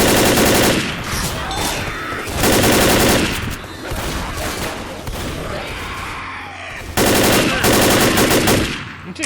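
Rapid automatic gunfire in the zombie shooter Left 4 Dead, loud and close, coming in several dense bursts separated by quieter stretches of echoing shots and game noise.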